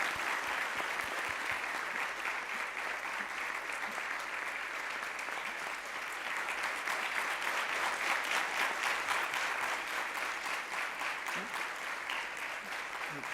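Sustained applause from rishi kumar students at an honour ceremony at Sandipani Rishikul, steady dense clapping that stays loud and continuous throughout, with no voices standing out above it.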